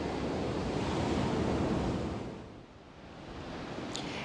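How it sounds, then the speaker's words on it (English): Wind gusting across an outdoor deck, a steady broad rushing roar that swells for a couple of seconds, dips briefly, then builds again, with no voices. "a windy day on the deck"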